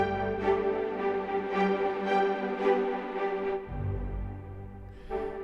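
Orchestral string ensemble preset from UJAM Symphonic Elements, sustained harmonic chords with swelling bowed phrases, a lower register entering near the end; clear and alone with no talking.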